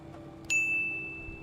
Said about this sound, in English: The big bell that you heard is CPDLC message from Nuremberg.